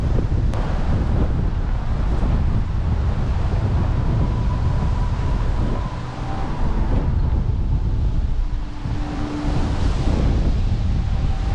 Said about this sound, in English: it's really windy, so hopefully you can hear me